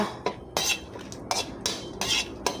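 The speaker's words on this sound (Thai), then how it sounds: "เดี๋ยวเราไปคั่ว พริกแห้งเม็ดใหญ่ก่อนเลยนะคะ" Large dried chilies roasting in a pan, stirred and tossed with a utensil that scrapes and clinks against the metal in repeated, regular strokes, close up with a faint background hum.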